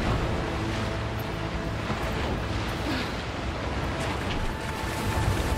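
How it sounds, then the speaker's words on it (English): Ocean waves crash and churn in a dense, steady roar throughout, loud and close, with no breaks and no talking, as heard in the video game Senua's Saga: Hellblade II. "The waves will pull me under again."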